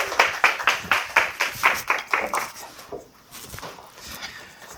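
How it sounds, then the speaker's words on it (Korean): Audience applause at an indoor lecture event, heard as a series of rhythmic, fairly close claps in unison that trail off into scattered lighter clapping and quiet room noise. "큰 박수 보내드리겠습니다."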